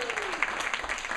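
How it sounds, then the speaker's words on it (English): Applause from an audience at a student leadership summit, a steady wash of clapping across the whole short stretch, with a faint voice tone sliding beneath it. "Can we get a round of applause for Lucy again?"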